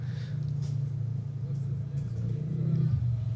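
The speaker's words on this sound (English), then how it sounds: "Oh no, another bike." A motorcycle arrives at the Baja 1000 desert race finish line, its steady mid-pitched engine drone rumbling close and loud throughout, with people talking and calling out over it.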